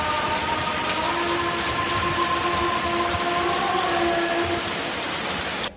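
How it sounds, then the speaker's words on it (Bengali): Heavy rain pours down in a steady, dense roar of drops hitting surfaces, loud and unbroken throughout with no voices. "ঝুম বৃষ্টিও হচ্ছিল আপনাদেরকে বৃষ্টির শব্দটা শোনায়"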